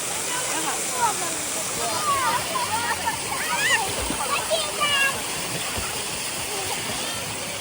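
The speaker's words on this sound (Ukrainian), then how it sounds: "Зараз буде стрибати, давай сюди." Child jumping into a swimming pool, with repeated splashing and sloshing water close by while people talk and a voice is heard over the water.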